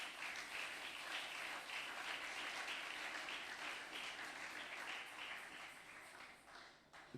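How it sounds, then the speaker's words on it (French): A congregation at a church service breaks into sustained applause, a dense, steady wash of many clapping hands filling the room for several seconds before it starts to thin out near the end. "Est-ce qu'on peut acclamer pour notre Dieu?"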